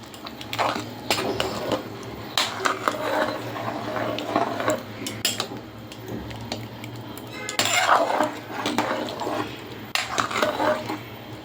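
A metal lid being set on a pot of prawn pulao with rice, lentils, egg and onion, giving several separate clanks and scrapes of cookware, close and fairly clear with no talk.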